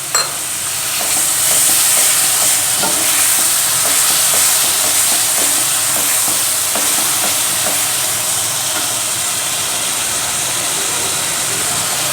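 Chicken keema masala with green chilli frying and being stirred in a pan, a loud, steady sizzle with rhythmic scraping strokes running throughout.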